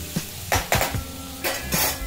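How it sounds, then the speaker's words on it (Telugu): A spoon stirs turmeric into pieces of spiny gourd (teasel gourd) in a pan for a fry, giving about five sharp metallic scrapes and knocks at an uneven pace, close and fairly loud, with no voices. "వేసుకొని ఈ ఆకాకరకాయ ముక్కలకి బాగా పట్టే విధంగా దీన్ని కలుపుకోవాలి"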